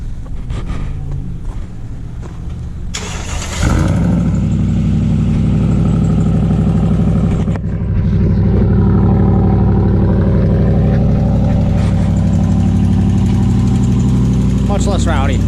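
A Ram truck starts up after an exhaust repair that followed a failed Cherry Bomb muffler, catching with a sudden loud rush and settling into a steady, rumbling idle close by.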